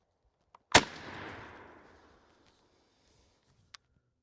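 A Spandau Arms S2 20 gauge shotgun with a factory full choke fires a Federal Grand Slam number 5 turkey load: a single sharp, loud report with a rolling echo that fades over about a second, then a faint click.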